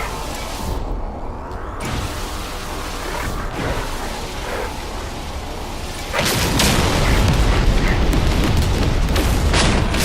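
Weapon fire in the space exploration game No Man's Sky, a dense, loud rumbling blast that keeps going and swells louder partway through, with no talking over it.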